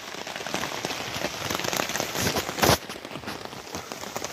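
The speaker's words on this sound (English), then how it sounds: "Absolutely tipping it down." Heavy rain pours down steadily on a hammock campsite, a dense hiss of drops drumming on surfaces, with a brief louder splash near the end.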